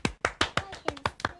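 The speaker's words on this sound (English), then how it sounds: "Let's give Hayley a clap" Audience clapping for a quiz winner, heard as seven sharp, evenly spaced claps in quick succession, close and crisp.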